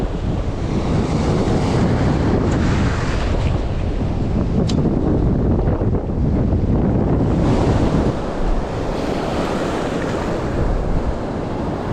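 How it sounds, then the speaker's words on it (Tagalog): Loud, gusting wind blasts across the microphone over rolling sea waves, a constant roaring wash with no talking. "Lakas ng hangin."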